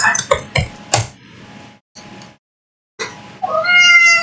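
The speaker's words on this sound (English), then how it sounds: "What you meowing at?" An indoor cat meows several times in quick, loud, close bursts, falls quiet, then gives a longer chirping, trilling call.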